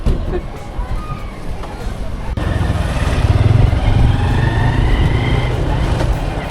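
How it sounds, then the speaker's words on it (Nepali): A motorbike engine rumbles close by as it rides through the busy Kalimati fruit and vegetable market in Kathmandu, with crowd chatter and other traffic around it. "मैले बाइक चलाउँछु"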